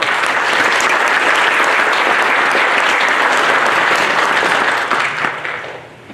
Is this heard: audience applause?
yes